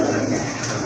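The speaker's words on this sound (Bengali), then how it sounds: "সুন্দর একটা মাদি কবুতর, মাথায় কিন্তু ঝুটি রয়েছে দেখার মতো একটা" A female crested pigeon at a pigeon farm gives a low, soft coo close by, set against steady background noise, with no speech.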